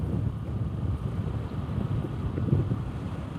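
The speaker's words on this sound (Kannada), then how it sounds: "ಗಾಳಿ ಸ್ವಲ್ಪ ಜೋರಾಗಿ ಬರ್ತಾ ಇದೆ" Strong wind buffets a microphone during a motorbike ride on a country road from Siddapur toward Jog Falls, a steady, loud low roar with gusty fluctuations and no speech.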